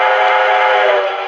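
A steady, bright whistle from an O scale K-Line K4 model locomotive sounds continuously at close range, holding its pitch, then fades slightly at the end.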